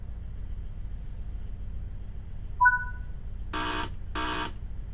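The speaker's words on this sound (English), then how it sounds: "Wait for that to go out and then we'll get the buzzer." Guard's departure buzzer sounding in a train in Train Sim World 3: a short tone is followed by two buzzes of about half a second each, over a steady low cab rumble.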